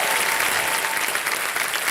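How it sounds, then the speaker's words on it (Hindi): A television studio audience on a business pitch show bursts into loud, sustained applause, dense and steady with no break across the whole stretch. "बहुत बहुत स्वागत है एक बार फिर जोरदार तालियों के साथ"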